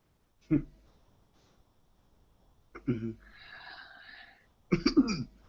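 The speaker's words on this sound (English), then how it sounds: "apparently because she's coughing" Three separate bursts of coughing with quiet pauses between them, close and fairly soft, one followed by a raspy breathy wheeze.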